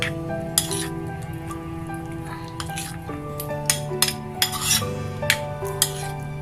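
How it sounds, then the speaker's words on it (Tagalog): A spoon stirs chicken marinade with egg whites in a bowl, making repeated metallic clinks and scrapes against the bowl, louder toward the end, over a steady low background hum. "mas better, gumamit na lang ako ng kutsara sa paghahalo"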